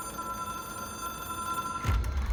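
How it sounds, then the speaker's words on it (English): A telephone ringing in the video game Control, a steady electronic tone held for nearly two seconds over room hum, then cut off by a low thump. "It is a phone."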